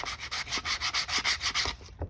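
Hand sanding with finer grit sandpaper to smooth a shaped part, steady back-and-forth scratchy strokes in an even rhythm, about a dozen close rubbing passes heard alone.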